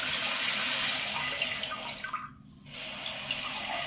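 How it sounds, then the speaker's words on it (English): A bidet toilet seat sprays water in a steady, rushing stream. The flow dips and briefly thins in the middle, then surges back at full strength, close by and with no talking. "you'll see right over here, the water will squirt down, and then turn it further"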